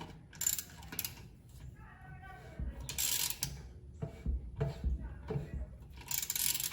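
Spare tire lug nuts being tightened with a wrench, bursts of metallic ratcheting clicks and clanks in quick jerky strokes, close by, with someone talking in between.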